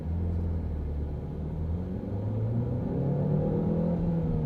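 A small car engine drones and rises steadily as it accelerates, a continuous low rumble with climbing pitch and no voices.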